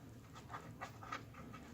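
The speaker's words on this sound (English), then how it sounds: "It's my doggie." A dog pants quietly up close with quick, breathy huffs in short bursts, faint and alone in a workshop during a 1973 VW Squareback headliner job.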